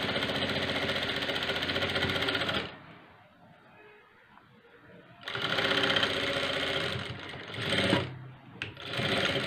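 A sewing machine stitches a blouse in rapid, loud, close bursts of needle chatter, running for a few seconds, pausing, then starting again in shorter runs.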